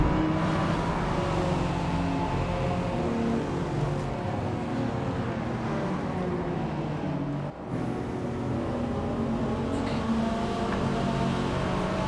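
Engine roar of a tuned Ferrari 288 GTO racing on a circuit in Forza Motorsport, a steady dense drone that holds loud throughout, with a brief dip near the middle and no talking.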